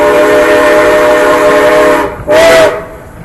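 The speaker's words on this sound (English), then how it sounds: "That warning whistle means you're about to go around the high hill curve." A loud, sustained steam train warning whistle on the Georgetown Loop Railroad, blowing for about two seconds before a curve, cutting off, then a short second blast.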